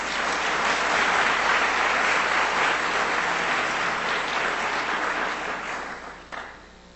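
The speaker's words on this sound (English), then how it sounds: "Let's give them one more big round of applause" An audience at a school board meeting claps in sustained applause that swells, holds steady, and then tapers off near the end.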